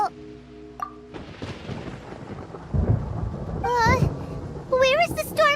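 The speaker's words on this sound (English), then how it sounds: "Paimon hears thunder!" Thunder rolls in a rainy storm in the Genshin Impact video game, a deep rumble swelling beneath steady rain, with game music tones and a spoken character voice over it.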